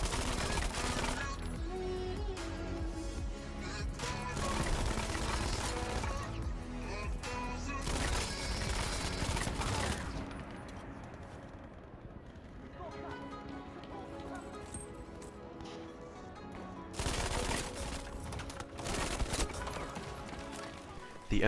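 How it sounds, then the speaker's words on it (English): An MG42 machine gun fires in Battlefield 5, sustained rapid bursts filling most of the stretch with a short lull in the middle, mixed with game battle noise and a voice talking over it. "The MG42 is just so much fun to use. Gunning down people so quickly at such a high rate of fire is incredibly satisfying."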